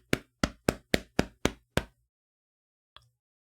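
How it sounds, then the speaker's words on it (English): Seven sharp slaps in quick, even succession, close and loud, followed by silence and one faint tap. "Sorry, I'm just slapping myself."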